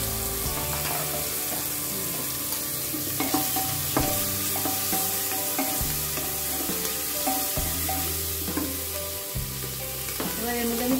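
Garlic and ginger sizzle in a hot pan, close and steady. A spatula scrapes and clacks against the pan in a busy, irregular rhythm of repeated stirring strokes.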